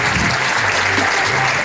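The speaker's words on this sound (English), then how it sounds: "A round of applause for Prof." An audience at a national tax debate breaks into loud, continuous applause, a dense steady clatter of many hands from start to finish.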